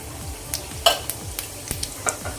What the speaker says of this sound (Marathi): तेल गरम झालं आता यामध्ये आपण मोहरी घालूया अर्धा चमचा अर्धा चमचा जिरा घालूया